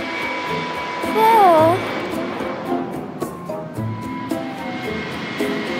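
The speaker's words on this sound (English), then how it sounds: "Penny, the plane is in the sky and trying to land, but the road is blocked." A droning airplane engine in the Car City World game hums steadily, with a warbling siren-like tone rising and falling briefly, and some cartoonish sound effects around it.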